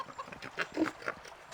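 Pigs in the Divinity 2 video game give a short run of close grunts and oinks, several quick snorts in a row with no talking.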